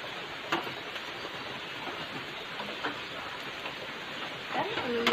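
Steady rain hisses close by, with a few louder drips and clatters, and faint voices briefly audible beneath it.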